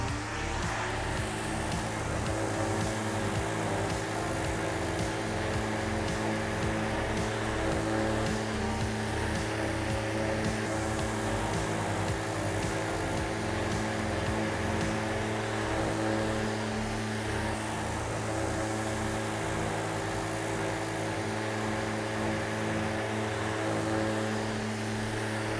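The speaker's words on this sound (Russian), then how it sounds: "шлифовальной машинкой." An electric sanding machine works a decorative plaster countertop with a continuous droning motor hum and steady abrasive hiss that holds at a constant, moderately loud level throughout.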